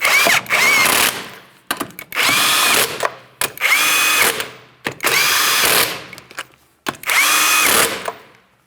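Power tool running down 19mm lug nuts on a 2007-2014 Ford Edge wheel, five loud close bursts of whirring and rattling, each about a second long, separated by short pauses.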